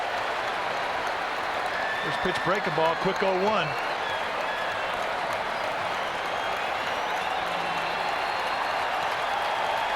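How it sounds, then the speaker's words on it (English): Baseball crowd roaring after a foul ball is hit over the screen at a Giants versus Phillies game, a broad steady stadium wash lasting throughout with a brief announcer's voice over it early on. "and Durham swings and fouls it over the screen, and a roar from the crowd"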